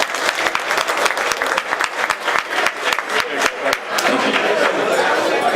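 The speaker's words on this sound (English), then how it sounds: "Everyone, please give a round of applause to Tristan Rossi" Audience at an appreciation dinner applauding radio host Tristan Rossi, a burst of sharp individual claps turning into denser, steadier clapping, with people talking underneath.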